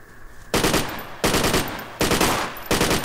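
Automatic weapons fire in the military video game Project Reality arrives as four loud, close bursts of rapid shots, each lasting about half a second, separated by short pauses.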